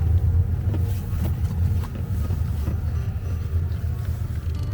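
A 2018 Hyundai Kona with 51,000 km on it driving, a steady low engine and road rumble heard from inside the cabin, with no talking.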